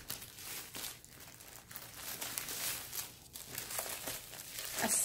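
Plastic wrapping around a stack of 10-inch batik fabric squares crinkles and crackles in irregular bursts, close and fairly quiet, continuing without pause.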